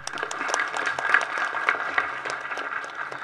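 Applause for a singer at a film audio launch event, a scattered crowd clapping with irregular sharp hand claps over a steady hum of the hall, moderately loud and without voices.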